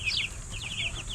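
Chicks and chickens in a coop give quick, high, repeated peeping and clucking calls close by over a low background rumble, with no voices.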